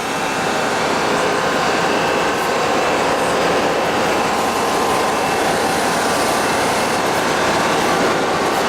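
Steady, loud rumble of a diesel locomotive shunting close by after uncoupling on the Norwegian Andalsnes-Bjorli line, with continuous mechanical clatter and hiss and no pauses.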